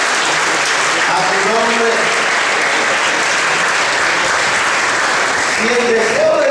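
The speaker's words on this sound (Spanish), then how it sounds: "¿Cuántos pueden darle un aplauso al Señor?" Loud, continuous applause from a church congregation praising the Lord, thick and even throughout, with a voice briefly audible near the start and end.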